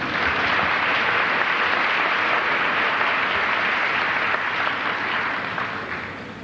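Sustained applause from a high school commencement audience in 1984, a dense, even wash of many hands clapping at steady loudness that begins to thin and fade near the end.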